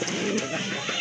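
A big male Rajgolla pigeon coos softly and close by, its low, brief calls rising over a steady background hum for about a second.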